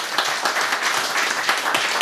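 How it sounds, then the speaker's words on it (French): Audience at a stage show applauding a radio station representative, steady dense clapping throughout, fairly close and moderately loud, with no talk over it. "que je vous demande d'applaudir"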